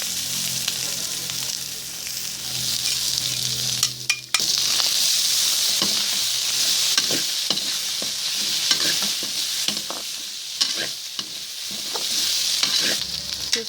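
Onion and garlic sautéing in oil in a pan, a constant bright sizzle broken by a clatter and repeated scrapes and taps of stirring, with no talking.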